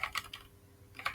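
Typing on a computer keyboard while coding, a few quick clustered keystrokes at the start, a pause, then another burst of clicks at the end, close and fairly crisp with no talking.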